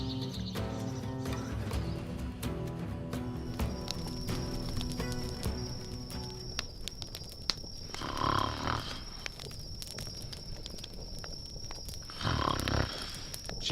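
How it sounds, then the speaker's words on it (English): A sleeping woman snores in the video game The Vale. Two low, rasping snores rise about four seconds apart over soft outdoor ambience, after a stretch of quiet, rhythmic background sound. "She snores worse than you."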